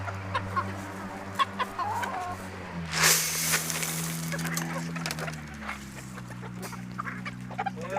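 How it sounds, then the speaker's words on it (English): Chickens kept in a fenced pen near quail cluck and murmur continuously, with a sharper squawk or flutter midway, close by and without talk. "Run over by the chickens."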